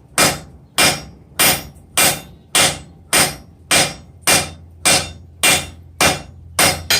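Steady hammer blows on hot steel over an anvil while forging a bick iron, about twelve loud ringing strikes at an even pace, each with a short metallic decay, close and without talk.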